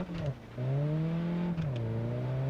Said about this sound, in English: Doing some handbrake turns,